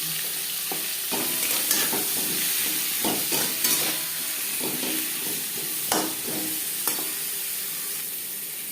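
Pieces of shol fish fry in oil with salt and turmeric, giving a steady close-up sizzle broken by occasional stirring and scraping sounds, with no talk.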